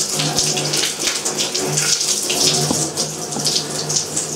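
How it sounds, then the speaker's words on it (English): Warm shower water running through the tubing of a brass instrument during cleaning, a steady splashing, gurgling flow that continues throughout at close range. "we turn the shower on warm water, not hot. Then we put the shower over the end of the instrument,"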